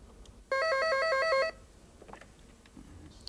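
A telephone rings once with a burst of warbling electronic tones lasting about a second, then a quiet room follows.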